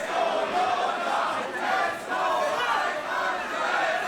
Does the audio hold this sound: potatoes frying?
no